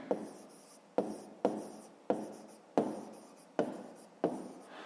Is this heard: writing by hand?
yes